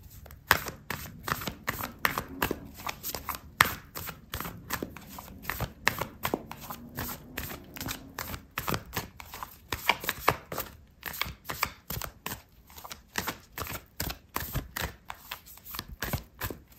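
Oracle cards shuffled by hand in quick, steady riffling bursts for a tarot reading, crisp and close, continuing almost nonstop with brief gaps and no voice.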